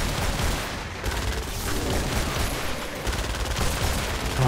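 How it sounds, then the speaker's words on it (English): Fast repeated blasts from an automatic shotgun in Fortnite Save the World's Frostnite event, a dense, loud, nearly continuous volley of close shots with no pauses. "This shotgun's actually automatic."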